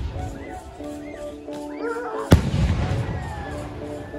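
A single loud, sharp firecracker bang bursts out midway through a nighttime patron saint fiesta vigil for the Virgin of Fátima at Rancho Las Gavias, Mexico, over steady festive music and distant voices.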